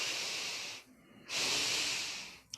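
A person draws a slow, steady breath in during a guided meditative breathing practice, a soft airy hiss heard close and alone, pausing briefly before another long inhale.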